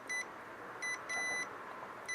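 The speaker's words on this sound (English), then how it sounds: "should beep through here" A multimeter continuity tester on an 18650 Li-ion battery case emits short, faint electronic beeps, one brief, a pair close together and another at the end, over quiet background hiss.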